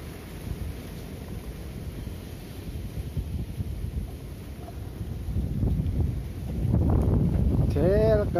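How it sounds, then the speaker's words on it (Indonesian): Wind blows at a lake during tilapia fishing, a steady low rushing that swells louder toward the end, with someone speaking briefly over it. "Lagi angin."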